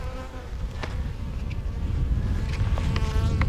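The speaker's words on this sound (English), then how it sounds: "Wow, the hive's getting pretty busy outside." Honey bees buzz in a steady, continuous drone outside their hive, loud and close, with no voices over it.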